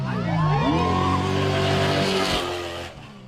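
A trophy truck racing at the SCORE Baja 500 blasts by with a loud, close engine roar, its pitch sweeping up then dropping as it passes before fading.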